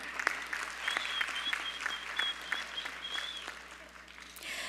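Audience applause for the orchestra at an arangetram dance debut, a steady wash of many hands clapping that holds for several seconds and eases off toward the end, moderately loud without talk.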